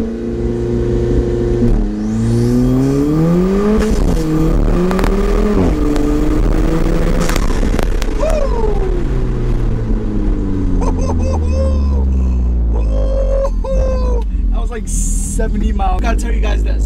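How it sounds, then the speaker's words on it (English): An Alfa Romeo 4C fitted with a cold air intake does a launch-control start: engine revs held, then accelerating hard through several upshifts with rising and falling pitch, close and loud, with a voice speaking over it. "I'm gonna do my launch control."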